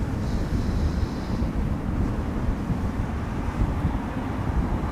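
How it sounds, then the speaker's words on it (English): TUI Boeing 767 departing Schiphol on a windy day, a broad, steady engine roar mixed with heavy wind noise on the microphone, constant and fairly loud without speech. "The TUI 767 is going to Lanzarote."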